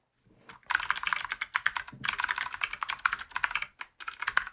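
Rapid typing on a computer keyboard close by, with dense bursts of key clicks broken by short pauses.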